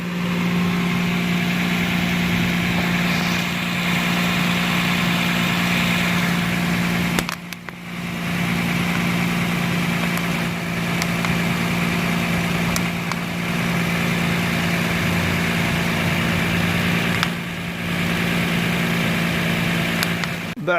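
A 2009 Toyota Land Cruiser with a 1GR V6 engine idles with an exhaust leak, giving a steady, loud, continuous engine hum with a constant low drone throughout and a brief dip partway through.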